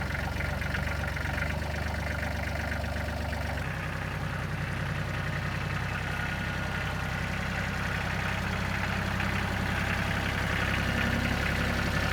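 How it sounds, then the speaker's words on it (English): A Kubota tractor fitted with a carry-all frame, lifting logs for an Alaskan sawmill, runs as a steady mid-to-low engine drone throughout, close and continuous with a slight shift in tone partway through, and no talking. "He uses his Kubota tractor with that carry-all frame to lift the logs up and then set them into place for the Alaskan sawmill"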